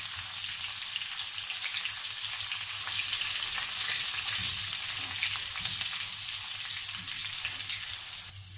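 Spices and chilli frying in a pan while being stirred, giving a dense continuous sizzle with a low steady hum beneath and soft scraping movements.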